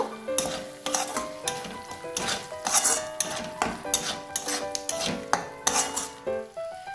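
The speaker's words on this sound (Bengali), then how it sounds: "এরপর এর মধ্যে আমি কসুরি মেথি দিলাম, মিশিয়ে নেব" Kasuri methi is stirred into fried masala in a pan for restaurant-style palak paneer, with a rapid series of metallic spoon clanks and scrapes ringing against the pan over a soft sizzle.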